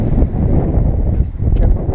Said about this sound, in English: This wind is moving too much.